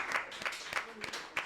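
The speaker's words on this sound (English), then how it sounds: "Can we get a round of applause for everybody who spoke?" A podcast studio audience claps for the speakers in a short, uneven round of hand claps, with several distinct louder claps standing out near the microphone and no one speaking over them.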